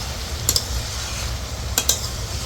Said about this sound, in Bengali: জল গুলে গেছে, এরকম ঘন ঘন নাড়তে হবে